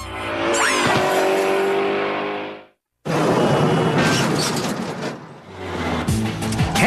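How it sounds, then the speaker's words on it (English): A car performing a spinning, skidding reverse turn at a driving course, with engine roar and long tire squeals, a brief cutout, then more loud skidding and revving close by. "Canada's worst drivers have all learned how to do a spinning, skidding turn in reverse."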